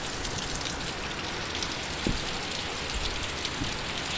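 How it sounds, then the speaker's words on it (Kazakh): A heavy spring downpour in Mangystau, Kazakhstan: dense, unbroken hiss of rain drumming on surfaces, loud and constant throughout, with a few sharper drips standing out. "Mangistau облысында нөсер жауын."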